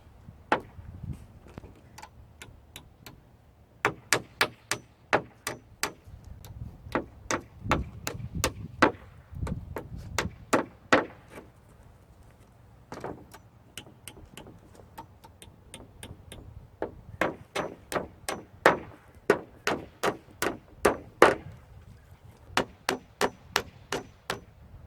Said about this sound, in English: All I'm doing is knocking the nails